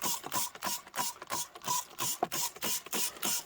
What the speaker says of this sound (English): I'm going to spray this on.